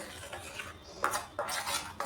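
A utensil scrapes and clinks against a bowl while a mixture is stirred, in a few uneven strokes up close with no talking.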